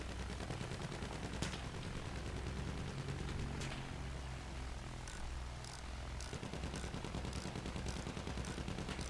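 Machine gun fire in Battlefield 1 rattles in sustained bursts at a distance, mixed with scattered gunshots and a droning background of battle noise, fairly faint overall.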